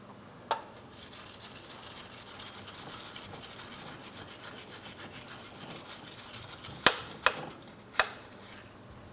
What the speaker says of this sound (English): For this, I'm using a wire brush.